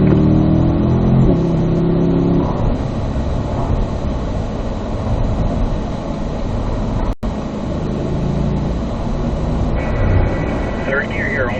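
A Corvette on a race track accelerates hard through the gears, a loud continuous engine roar rising in pitch with a brief cut at a shift, with a voice talking over it.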